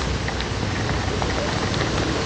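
Heavy rain pours down in a sudden downpour with flooding in Quezon City, a dense, steady roar of drops hitting surfaces that stays loud and unbroken throughout.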